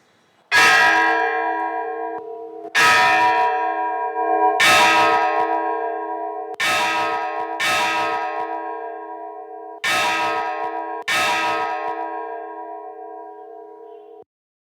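Church bells cast at the Whitechapel foundry of Thomas Mears and Sons ring out loudly and alone. There are seven strong strikes at uneven intervals, and each one leaves a long, slowly fading metallic hum.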